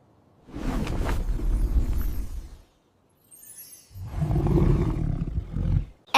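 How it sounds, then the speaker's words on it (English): A lion roars twice, deep and rumbling, each roar lasting about two seconds with a short quiet gap between them, loud and close. "L for lion."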